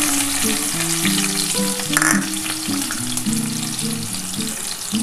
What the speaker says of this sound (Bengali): এই তেলের মধ্যেই আমি এই যে পেঁয়াজ কুচিয়ে রেখেছিলাম, এটা দিয়ে দিলাম।